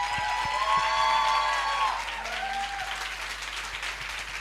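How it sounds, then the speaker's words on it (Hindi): Audience applause welcoming a speaker at a church birthday celebration, a dense round of clapping that swells and then fades, with tonal music or voices ringing over it early on. "हम तालियों के साथ स्वागत करेंगे।"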